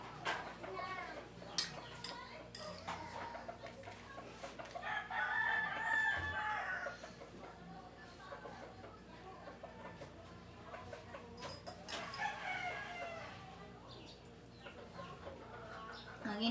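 Chickens cluck and a rooster crows intermittently nearby at a quiet morning home, with faint clinking of dishes in the background.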